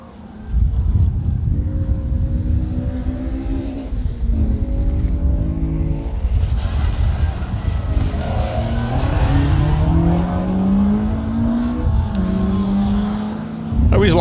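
Renault Clio rally car driving through a stage of the Colin Ellmore Memorial Rally, its engine loud and close, revving and climbing through the gears under steady commentator talk.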